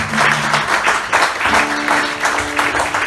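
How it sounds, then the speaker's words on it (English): Audience applause at a bar gig in Belfast, dense and steady clapping from a crowd close by, filling the whole stretch with a few brief tonal notes underneath. "let's give him a big round of applause"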